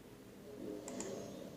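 Two quick, quiet mouse clicks land close together while points are placed on a curve shape in Google Slides, over a faint low room hum.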